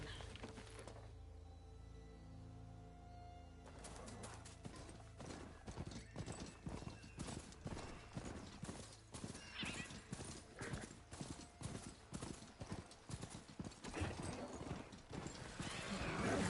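Steady rhythmic footfalls of a ridden machine mount in Horizon Forbidden West, a mechanical clip-clop gait with occasional whinny-like calls, starting after a second of quiet and running continuously at moderate volume.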